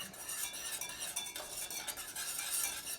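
A spoon stirs a thickening potsticker dipping sauce in a pot on the stove, giving soft, continuous scraping and swishing at a low, steady level with no talking.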